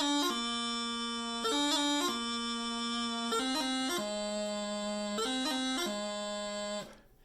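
Scottish Great Highland bagpipe plays a steady run of melody notes over its constant drone, with quick cut grace notes breaking between pitches, close and sustained before stopping abruptly.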